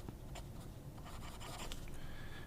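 A fountain pen fitted with a Schmidt broad nib writes on paper, a close, quiet, continuous scratching with small strokes and taps, with no voices.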